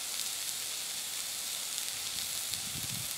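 Beef tenderloin searing in a Dutch oven over coals, a steady close hiss of sizzling meat that holds at an even level throughout with no talk.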